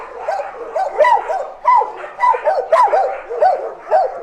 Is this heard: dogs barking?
yes